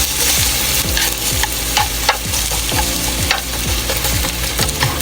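Onions sizzling in hot cooking oil in a pan, a steady close crackle and hiss broken by the repeated scrape of a stirring utensil.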